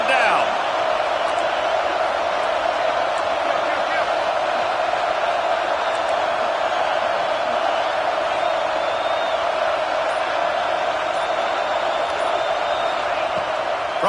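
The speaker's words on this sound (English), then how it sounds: "The black shirts looking to this crowd, and they are delivering energy on this big third down." A college football stadium crowd roars with steady energy on a big third down, a broad sustained wall of cheering heard under play-by-play commentary from a broadcast announcer.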